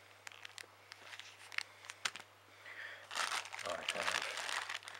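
A plastic bag holding zip ties crinkles up close, scattered rustles at first, then a denser burst of crackling, with faint talk underneath.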